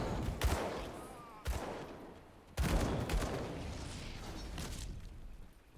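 Gunfire in the action game Grim Dawn, a few loud sharp bursts of shots with reverberant tails and rattling volleys, separated by short gaps, over a muffled background of game noise.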